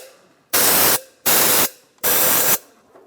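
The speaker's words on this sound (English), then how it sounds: "You can just take a little compressed air and just make sure you get all the sand and dirt out of there." Compressed air blasting sand and dirt out of the intake ports on a 2004-2010 BMW X3 during an intake manifold gasket job: three loud, steady hissing bursts of about half a second each, evenly spaced, with brief quiet gaps between them.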